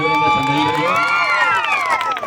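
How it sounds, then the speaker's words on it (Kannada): A crowd at a live folk comedy show cheers loudly and whistles close by, with a dense wash of shouts and rising and falling whoops filling the whole burst. "ಇಲ್ಲ ಜೋರ ಚಪ್ಪಾಳೆ ಮತ್ತೊಮ್ಮೆ"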